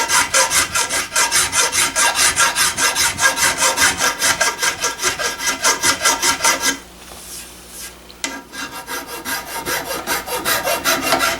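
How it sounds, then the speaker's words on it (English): A coarse file rasps back and forth over the wooden stock of a gun, loud rhythmic strokes close by, broken by a brief pause before the scraping picks up again at the same steady pace. "You can use a coarse file like this on the wood too to smooth it up."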